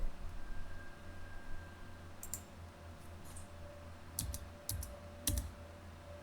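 Enter key presses and mouse clicks on a computer keyboard while working in AutoCAD, a handful of sharp, close clicks in small clusters, including a quick triple tap, over a quiet room hum.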